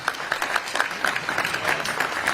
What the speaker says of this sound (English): Give them a round of applause, all three of them